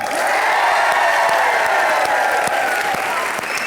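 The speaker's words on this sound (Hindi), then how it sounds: "अगर कृष्णा की टीम जीती है तो जोरदार तालियां" A television studio audience on a live comedy show gives loud, sustained applause, a thick continuous roar of clapping with scattered cheers and chatter underneath.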